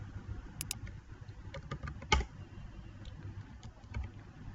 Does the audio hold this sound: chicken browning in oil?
no